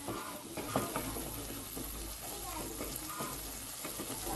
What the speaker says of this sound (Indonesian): Nah, ini harus diaduk cepat. Biar membentuk scramble telur.